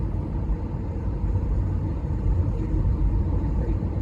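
Falcon 9 first-stage Merlin engines burning during a Starlink launch, a steady deep rumble with a continuous low roar and no breaks, heard at a distance.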